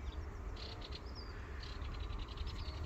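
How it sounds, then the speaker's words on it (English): Birds chirp faintly in the distance, a scatter of short repeated high calls over a low outdoor rumble near a horse. "You hear all them squirrels chirping at you, Wiley? Those are birdies."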